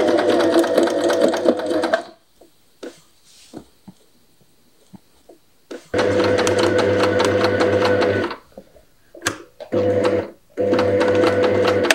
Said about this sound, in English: this little magnetic thing sticks to the sewing machine like that